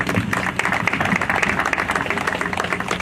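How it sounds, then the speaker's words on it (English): Applause from a gathered crowd at an outdoor unveiling of a knife bin in Perry Barr, Birmingham, greeting the local MP; steady, moderately loud clapping runs throughout with some voices mixed in. "Please give him a round of applause."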